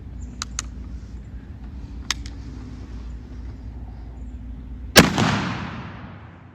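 A muzzleloader rifle fires a single loud, sharp shot at a doe during a hunt, with a long rumbling boom and echo rolling away outdoors. A few fainter sharp clicks come before the blast.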